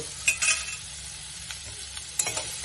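Fried radish, with fried lentil dumplings added, is stirred in a pan. A couple of scraping stirs come over a low, steady sizzle, with no talking.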